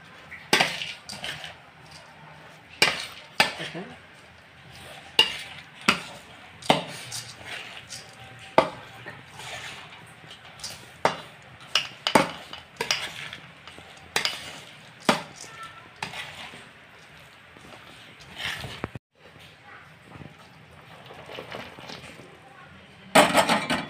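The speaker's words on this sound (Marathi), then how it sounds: "थोडं थोडंसं ओतायचं, एकदम नाही ओतायचं. आणि हे असं हलवून घ्यायचं." A spoon stirs sev into sugar syrup in a pan for sev laddu, making irregular scraping clacks and knocks against the metal, sharp and close, repeating unevenly throughout.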